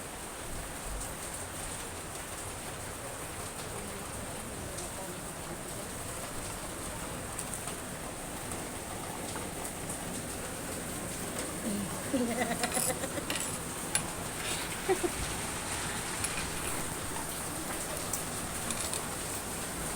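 Steady rain hisses throughout, a broad wash of falling water with a few louder patters and faint background sounds near the end.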